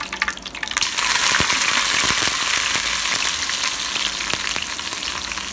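Hot oil sizzles loudly and steadily while mustard seeds for a Kerala fish curry crackle and pop through it at an uneven pace, close up and without voices.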